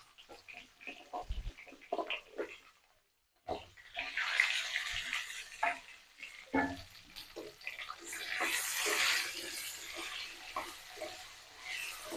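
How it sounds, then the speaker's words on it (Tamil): Tamarind water is poured into a pot of drumstick sambar, giving a soft splashing and trickling that swells into a steadier pour toward the end, with scattered quiet clinks and stirring before it. "நம்ம வச்சுருக்க புளி தண்ணியை இதில் ஊற்றிக்கலாம்"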